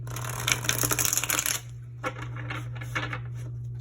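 Pocket-size Rider-Waite tarot deck being cut after shuffling, a burst of close, rapid riffling card flicks followed by a few softer taps and handling sounds, with no talking.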